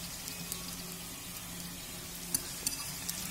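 Potato panzerotti filled with processed cheese slices and mortadella fry in a little oil in a pan, a steady close sizzle with a few faint pops and taps.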